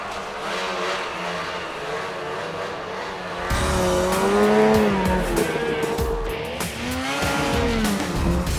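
Snowmobiles riding on snowy trails, engines droning steadily and then swelling louder with rising and falling revs as the machines pass close by, no talk.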